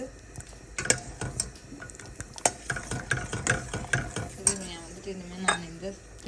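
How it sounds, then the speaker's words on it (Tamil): A spoon stirring white sauce in a pan for pasta, producing irregular close scraping and clinking strokes against the metal with a faint simmering bubble underneath, and no speech. "இப்போ பாரு, நான் கைவிடாமல் கிண்டிக்கிறேன், கட்டிப்படை இல்லை"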